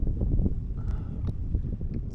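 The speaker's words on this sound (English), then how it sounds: "it's pretty choppy out, and it is pretty windy" Wind gusts across choppy open water around a kayak, making a steady low rumble and microphone buffeting with faint splashes mixed in.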